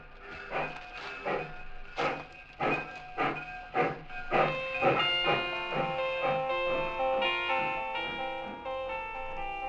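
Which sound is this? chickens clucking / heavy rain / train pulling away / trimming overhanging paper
train pulling away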